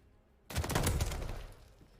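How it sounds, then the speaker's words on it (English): Gunfire erupts in a Call of Duty league match, a sudden loud burst of rapid shots that rolls on for over a second before tailing off, heard without any talk over it. "Shots ring on out"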